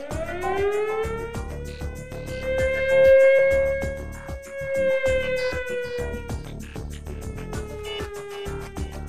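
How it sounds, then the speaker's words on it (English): A loud industrial emergency siren at an LNG terminal wails, rising and falling slowly in pitch, sustained for the whole stretch, with a faint rhythmic clatter beneath it. "wailing siren will be sounded for a duration of 2 minutes for an on-site emergency"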